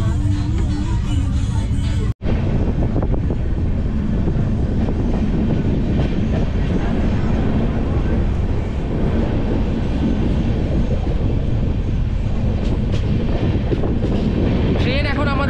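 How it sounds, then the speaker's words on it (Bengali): The 12857 Tamralipta Express on the Howrah to Digha line rolls onto the Kolaghat bridge with a loud, steady rumble and rattling wheel clatter, broken by one brief dropout near the start, while a voice talks over it. "ট্রেন এখন আমাদের প্রবেশ করছে কিন্তু কোলাঘাট ব্রিজের উপর"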